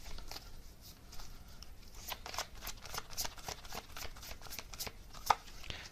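A deck of tarot cards is shuffled by hand in quick rapid riffles and snaps, a close, crisp run of papery flicks with one sharper slap near the end.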